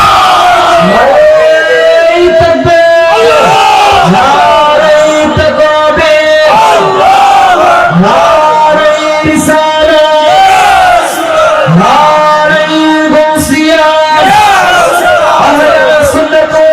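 A huge crowd of roughly seventy thousand people at an Islamic religious gathering in Comilla roars the takbir in unison, in repeated loud, rhythmic waves of massed shouting.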